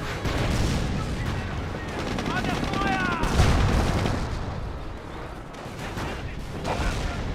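Artillery barrage in Company of Heroes, a dense run of booming blasts and gunfire that rumbles on continuously with no pause, with a brief voice mixed in under the battle noise.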